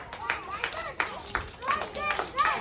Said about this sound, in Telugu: all of you clap for Shravani ma'am and your friends who answered very well